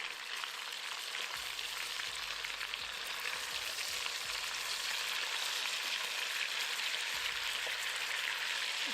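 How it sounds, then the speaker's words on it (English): Pieces of beef sear undisturbed in a hot pan, giving off a steady, dense sizzle with faint low knocks underneath. "I'm going to allow these pieces of beef to sear for 4 minutes without moving anything"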